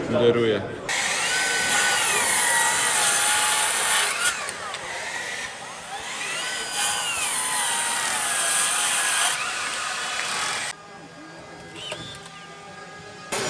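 A compact Milwaukee power saw with 66 mm cutting depth cuts wood at a tool event in Rome, giving a loud whine that rises and falls in pitch across repeated passes before stopping near the end.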